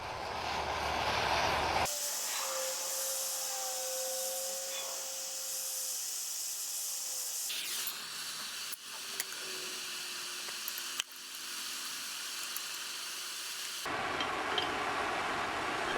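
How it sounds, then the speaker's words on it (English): A MAP gas torch roars in a steady, broad hiss while heating the base of a clevis on a John Deere 110 mower deck, cutting off and restarting partway through, with small metallic clicks. "I'm going to use a MAP gas torch on each side and concentrate the heat at the base of the clevis."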